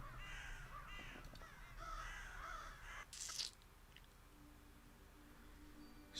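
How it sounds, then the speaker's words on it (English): Crows caw in the video game Saint Kotar, several harsh calls in the opening seconds over a low rumbling ambience, followed by a brief burst of noise and a quieter stretch with no speech. "Ah, the crows, finally. I didn't hear them for a while."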